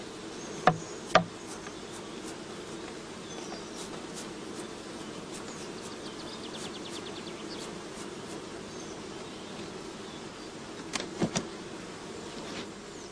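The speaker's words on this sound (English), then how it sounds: "Shaken or brushed into the funnel, the bees fall into the swarm box underneath" Honeybees brushed off comb and falling through a funnel into a swarm box, a steady, soft, dense hum of many bees, with a few sharp knocks near the start and again near the end.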